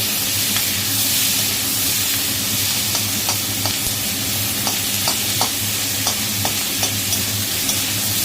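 Red bell pepper is stirred in a pan over steady loud sizzling, with repeated light clicks and scrapes of the utensil against the pan at an even pace, and no speech.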